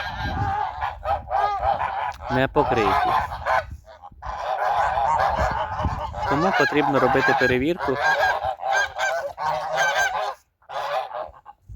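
A flock of domestic geese on a household farm, ganders kept with several geese each, honks loudly and nearly nonstop in overlapping calls close by, while someone talks over the noise.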